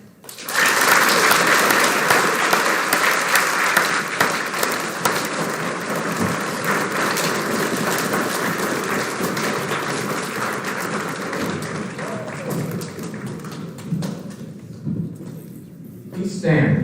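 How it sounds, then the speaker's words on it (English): Sustained, loud crowd applause for veterans and military personnel at a school Veterans Day ceremony, a dense rain-like roar of clapping that holds steady for many seconds before tapering. "Please join me in a round of applause for all the veterans and military personnel here with us today."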